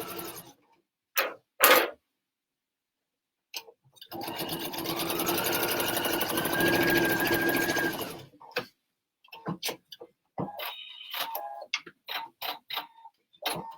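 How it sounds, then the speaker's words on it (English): A PFAFF sewing machine stitches fabric pockets in a steady whirring run of about four seconds, close up, with short clicks and handling taps before and after. "And then if I like them, I'm just going to stitch them down."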